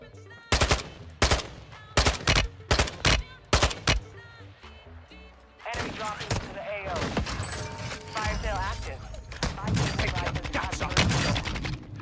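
Loud bursts of automatic gunfire in Call of Duty Warzone, first in sharp separate volleys, then dense continuous shooting with a person talking over the action.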